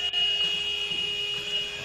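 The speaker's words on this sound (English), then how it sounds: "there is the final buzzer, and it's finished here" The final buzzer sounds at a British Basketball League game between Worcester Wolves and Plymouth Raiders, a loud, steady electronic tone held over the arena background.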